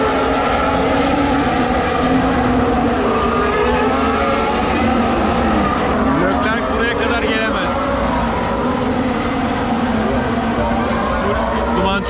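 Formula 1 race cars at the Azerbaijan Grand Prix street circuit in Baku roar past in a dense, continuous loud wash of engine noise and crowd din, with a voice talking throughout.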